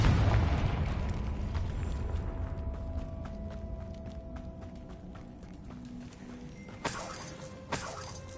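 A Confringo explosive spell is cast in the game Hogwarts Legacy, opening with a heavy low blast that fades into a long rumbling tail and faint ringing tones, then two sharp, brighter impacts follow near the end, with no talk.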